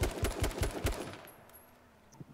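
Rapid bursts of gunfire in a video game, five or six sharp shots in a quick rhythmic run that then fade into quieter game ambience.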